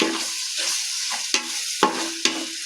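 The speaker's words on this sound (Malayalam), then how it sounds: "നന്നായി വഴറ്റി കൊടുക്കുക." Biryani masala paste is sautéed in a pan, with a spatula scraping and knocking in short strokes over a bright, continuous sizzle, three sharp taps standing out.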